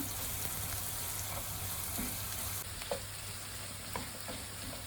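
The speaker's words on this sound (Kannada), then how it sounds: "ಇನ್ನೇನು ಈರುಳ್ಳಿ ಬೇಯ್ತಾ ಇದೆ, ಹಮಟೆಕಾಯಿ ಹಾಕ್ಕೊಳ್ಳೋಣ." Onions fry in a pan with turmeric powder and curry leaves, a close, steady sizzle broken by occasional scraping stirs of the spoon, with no talk.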